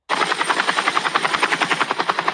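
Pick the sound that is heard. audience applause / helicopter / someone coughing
helicopter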